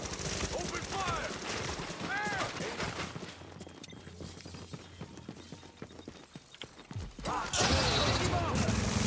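Gunfire in The Division breaks out in bursts of rapid shots and clattering impacts under shouted voice commands, then a louder hissing blast near the end.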